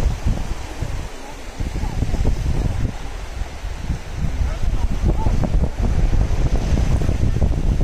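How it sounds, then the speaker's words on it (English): Ocean waves rise and wash up the shore on the Bay of Fundy at Long Beach, New Brunswick, surging and breaking in uneven pulses under heavy wind noise buffeting the microphone. "Now the waves are getting bigger and it's bringing the water higher."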